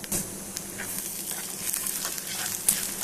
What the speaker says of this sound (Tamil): ஓங்கூரா அதை போட்டு நல்லா வதக்கிக்கணும்